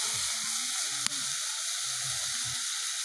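Drumstick flowers nearly finished frying in a pan give a soft, steady sizzle close by, with low clattering scrapes and one sharp click from the utensil.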